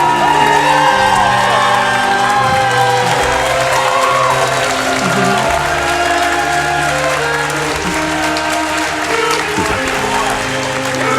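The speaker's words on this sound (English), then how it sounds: "Keep giving yourselves a round of applause" A large audience at a charity speedrunning marathon event breaks into loud sustained applause with cheers and whoops, a continuous roar of clapping close by, with faint music running underneath.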